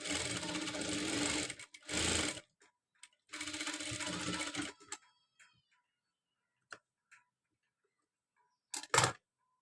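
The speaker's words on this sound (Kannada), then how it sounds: "ಇದನ್ನು ಹಿಡ್ಕೊಂಡು ನಾನು ಟಕ್ಸ ಹಿಡಿತಾ ಇದ್ದೀನಿ" A sewing machine stitches tucks on a blouse front, running in two long, steady bursts with a short burst between them, then a few faint clicks and a final brief run. The room is otherwise quiet.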